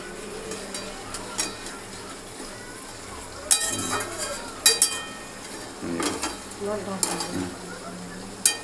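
Chicken curry is stirred and sautéed in a pot with a metal spatula, giving irregular scraping clanks of metal on metal over a low sizzle, with voices talking in the background.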